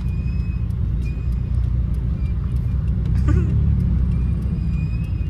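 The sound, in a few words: city traffic in Makati, cars on the road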